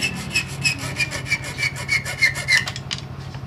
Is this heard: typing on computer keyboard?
no